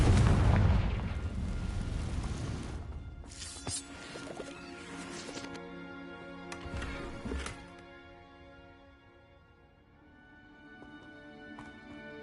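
A Confringo fire spell explodes in the Hogwarts Legacy video game with a heavy booming blast and rumbling tail, followed by further sharp impacts over a sustained musical score.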